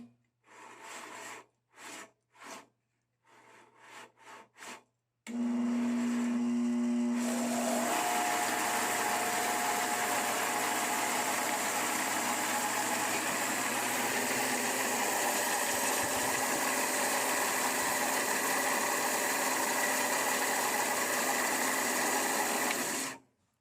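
A Craftsman 10 inch 3 wheel bandsaw with worn bearings and a scraping blade, a few short bursts, then a steady loud running drone with a whining hum that continues for about twenty seconds before stopping.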